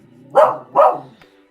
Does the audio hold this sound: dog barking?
yes